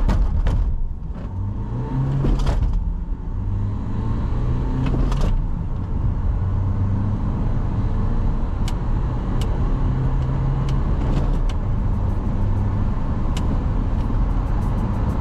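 A 2017 Renault Trafic 1.6 dCi van with 145 hp accelerates in a 0-100 km/h run, diesel engine drone rising through gear changes over steady road and cabin rumble, with a few clicks and knocks inside.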